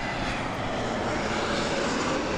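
A passenger jet takes off from Las Vegas Harry Reid International Airport, a steady broad roar of aircraft engines filling the air with no voices.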